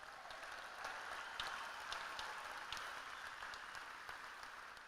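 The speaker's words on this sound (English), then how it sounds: "I'd love to give one more round of applause for those folks here" Applause at a Hall of Fame gold jacket dinner, a steady, distant wash of clapping from a large seated crowd that holds even for several seconds before slowly easing.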